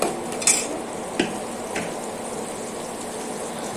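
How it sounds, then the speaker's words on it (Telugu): Green chillies are stirred and fried in a pan for a tomato egg curry, with a soft sizzle under a few sharp scrapes and clinks of a utensil against the pan. "పచ్చిమిరపకాయలు వేసేయాలి. అది కొంచెం గోలాలండి."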